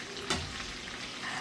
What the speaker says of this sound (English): I'm gonna finish frying this up